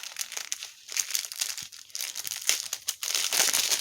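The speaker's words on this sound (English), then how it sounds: "Sorry about the crinkling noise." Plastic packaging from a diamond painting kit crinkles and crackles in irregular bursts, close and fairly loud, with no talking.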